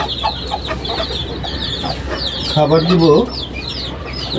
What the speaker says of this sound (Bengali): আমার এই মুরগি বাচ্চাগুলো সবগুলো ফুটেছে